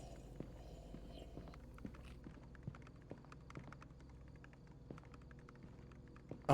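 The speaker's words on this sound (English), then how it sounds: "I hear someone back here typing away" Faint, irregular keyboard clatter from someone typing on a computer in the horror game Fears to Fathom: Home Alone, heard at a distance over a low hum.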